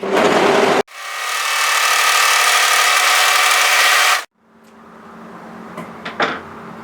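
A serger stitching and trimming the edge of fabric for a wide headband with its blade: a brief whir, then a loud, steady, fast-running motor buzz for several seconds before it stops, with faint clicks afterward.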